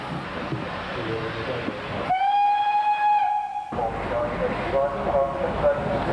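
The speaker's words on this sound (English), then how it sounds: "The loco moves out of Bridgnorth Yard" A Somerset and Dorset 7F steam locomotive pulls out of Bridgnorth Yard, its whistle sounding a loud, sustained blast midway through, with rumbling engine and chuffing noise before and after.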